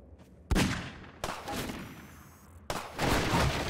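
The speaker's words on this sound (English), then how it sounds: "I need him to shoot these boxes" Gunfire in Half-Life 2 cracks out as three sharp, loud shots a second or so apart, each followed by a short echoing decay, aimed at boxes.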